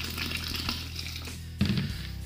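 Hot water pours from a tap onto sugar in a fermenting vessel for making rum, a close, moderately loud splashing and running flow that gets louder and deeper partway through.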